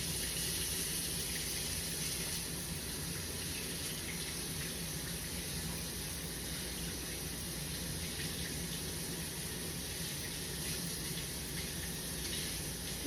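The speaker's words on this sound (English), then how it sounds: "We're rinsing off our vegetables in cold water" Cold tap water runs in a steady, even gush into a sink while vegetables and cilantro are rinsed under it, with no talking.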